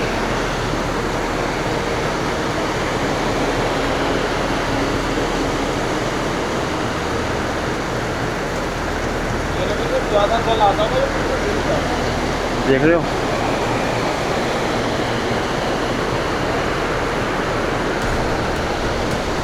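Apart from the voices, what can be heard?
water flowing below the mountain trek path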